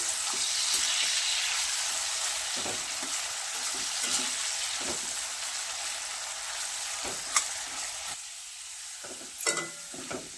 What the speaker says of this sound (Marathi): कांदा लवकर भाजण्यासाठी ना थोडंसं मीठ घालूया